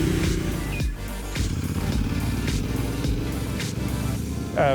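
An adventure motorcycle rolling slowly in second gear on a rural Ottawa Valley route, a steady low engine drone with wind rumble throughout and a faint rising whine near the end, with no speech.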